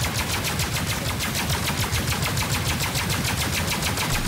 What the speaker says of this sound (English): And they keep firing. 20 seconds of continuous fire right now.